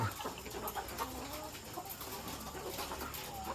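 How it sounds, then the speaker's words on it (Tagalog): Several laying hens cluck softly at a distance on a farm, scattered calls over a faint background hum, no one speaking. "ito po yung mga bagong manok"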